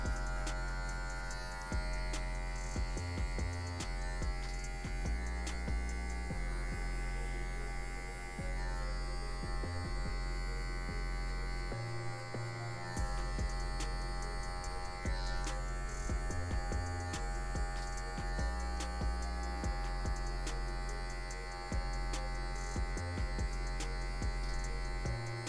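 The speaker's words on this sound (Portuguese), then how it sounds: "A gente vem usando só a quina da maquininha em algumas regiões mais escurinhas" Electric hair clippers buzz steadily while fading afro hair, a close, continuous motor drone that holds level throughout with small dips as the blade moves over the head.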